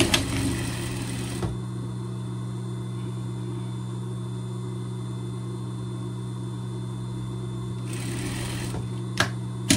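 A sewing machine stitches the underarm seam of rib-knit pet pajamas, running in a steady, even whir for several seconds with short starts and stops at either end.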